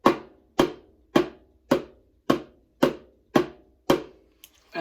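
Hands clap a steady rhythm of evenly spaced quarter notes, eight sharp, close claps in a row at an even pulse, ending with a softer trailing tap, with no voices over them.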